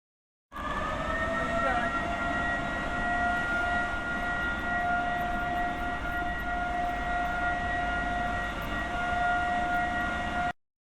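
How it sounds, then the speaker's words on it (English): A steady, sustained sulfur dioxide (SO2) evacuation siren at a wharf wails at a constant pitch for about ten seconds over a rumbling background, then cuts off. "There is the SO2 alarm, which sounds like this."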